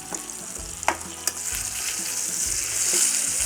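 Rupchand pomfret fish frying in a pan of hot oil, a close, steady sizzle with a few sharp pops and spatters, no voices.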